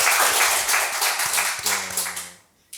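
An audience at a small-business talk applauds for PNM, a close, full burst of clapping that thins out after a moment as a voice talks over the fading tail.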